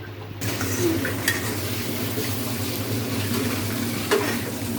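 Dried fish frying with garlic and onion, a constant bubbling sizzle close by with a low hum, a few light clinks and stirring scrapes scattered through.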